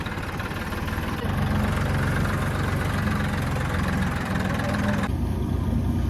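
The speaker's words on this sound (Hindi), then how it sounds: "अब ट्रैक्टर लेकर हम जा रहे हैं आगे वाले खेत में।" A tractor engine runs steadily and loudly close by on a farm, with a deep, continuous idling rumble that barely changes.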